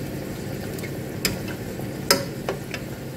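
Pork steak and Chinese chorizo fry in a pan for cabbage bistek, giving a steady low sizzle with a few sharp crackles and pops near the middle and end.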